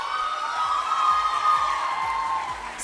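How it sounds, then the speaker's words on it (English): A crowd of children and parents at a school campus event cheers after a stage performance, a steady, loud shouting roar that holds for the whole stretch without distinct clapping. "appreciate them in a huge round of applause,"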